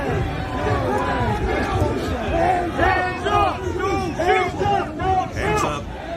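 An agitated protest crowd shouts and yells together in overlapping bursts, loud and close, with a dense roar of many voices rising and falling throughout.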